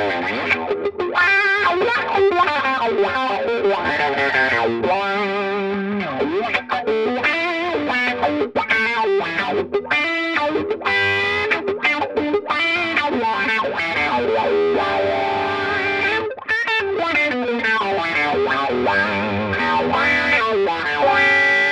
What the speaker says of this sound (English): Add the wah-wah.